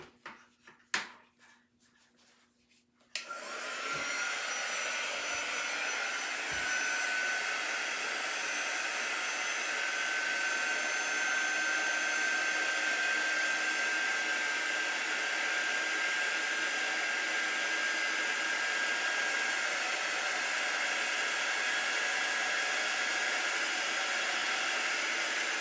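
A hair dryer blows steady, loud air across a paper cutout craft of a vintage truck, starting after a few quiet seconds of small knocks and continuing unbroken to the end.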